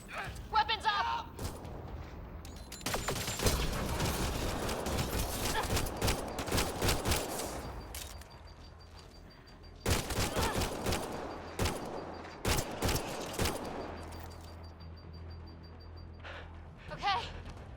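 Sustained bursts of gunfire from the Mass Effect video game, dense rapid volleys that drop out briefly and then return, loud and close, with game voices talking over the shooting.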